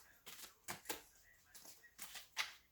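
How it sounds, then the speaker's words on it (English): Large tarot cards shuffled by hand at close range, giving several quiet papery riffles and slaps in an uneven rhythm. "With all these rings, it's hard to shuffle."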